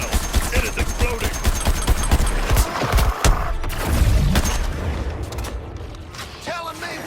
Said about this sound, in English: Prepare yourself. It is exploding.